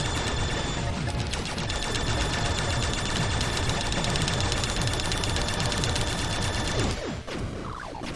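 Sustained rapid gunfire from the Wave weapon in Blaster Master Zero, a dense unbroken stream of shots for about seven seconds before cutting off abruptly, with a few faint game sounds trailing after.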